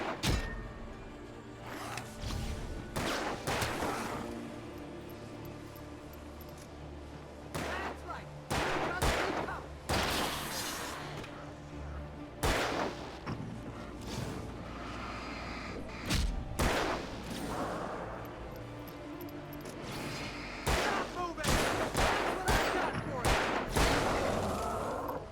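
Gunfire in the video game Alan Wake: repeated sharp shots crack out in irregular bursts and volleys across the whole stretch, loud and close, with game voices talking between and over the shots.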